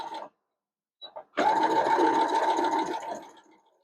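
Domestic sewing machine stitching quilt fabric, a steady close whirring run of about one and a half seconds after a few brief starts, with reverse and forward lock stitches at the end of a seam.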